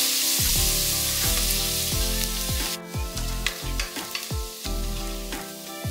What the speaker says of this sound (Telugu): ఇది కొంచెం రంగు మారేంత వరకు వేయించుకోవాలి మీడియం ఫ్లేమ్ మీద.